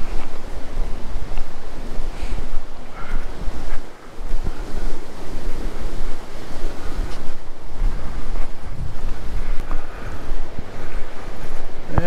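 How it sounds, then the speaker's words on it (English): Waves roll across Granger Lake on a very windy day, heard as a continuous loud wash of water mixed with heavy wind buffeting the microphone, steady throughout with a brief dip midway. "And look at those waves just a rolling."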